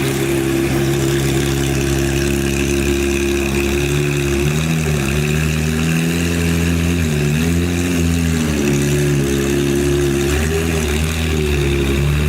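Porsche cars at the Spa-Francorchamps circuit, a loud, steady engine drone with pitch rising and falling as the cars pass close by, no talk.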